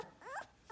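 A German Shepherd puppy about eleven days old gives a short, faint, rising whimper, a thin high cry lasting under a second, heard close up against quiet room noise.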